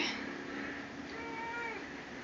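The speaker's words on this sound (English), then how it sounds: "Sorry about my cat. She's always sabotaging my videos" A pet cat meowing indoors, a faint drawn-out meow with a rising then falling tone, heard alone in a quiet room.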